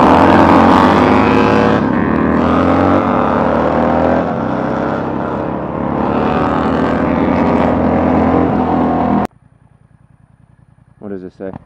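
Motorcycles racing side by side toward a finish line on an open road, a loud sustained engine roar with rising and falling revs that cuts off abruptly near the end, followed by faint rumbling.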